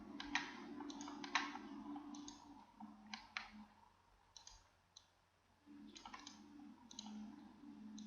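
Computer mouse clicks sound in quick clusters of two or three, close and crisp, separated by short pauses in a quiet room during Autodesk Inventor modelling, with no speech.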